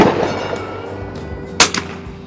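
A gunshot with Federal AutoMatch ammunition cracks sharply near the middle, followed by a quick second report, heard over steady background noise at close range.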